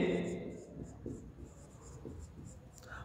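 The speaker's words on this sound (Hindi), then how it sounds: "अपन यहां लिखेंगे" Marker or chalk strokes on a board during a Hindi-language biology lesson on flowering plants, a run of short rhythmic scratchy strokes close by, with the teacher's voice faintly underneath.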